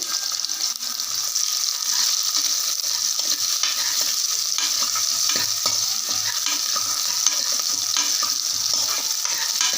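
Small shallots frying and being stirred in hot oil for a village-style country chicken curry, a steady close sizzle with scraping stir strokes throughout, no talking.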